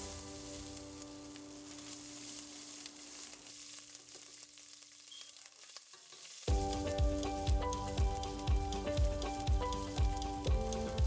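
Ginger paste stirred in a sizzling stir-fry pan for noodles: a steady frying hiss that grows louder midway, when rhythmic scraping strokes of the stirring begin and repeat close up.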